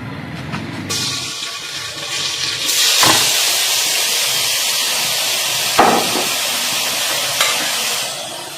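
Grated pumpkin sautés in melted ghee in a pan, a loud, continuous close-up sizzle with a few sharp spatula knocks and scrapes as it is stirred.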